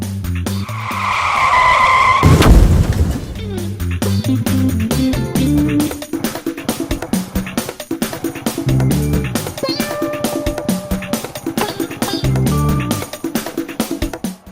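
A Qooder three-wheeled scooter skids through a handbrake turn, with a loud, harsh tire squeal in the first seconds. A busy, rhythmic mechanical and road din follows and continues to the end.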